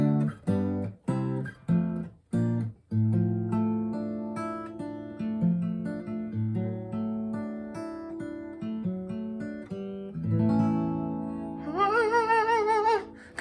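An acoustic guitar plays the ending of a piece, opening with sharp strummed chords, then moving into ringing picked notes and fuller chords, closing with a shimmering, wavering final flourish, played solo and close.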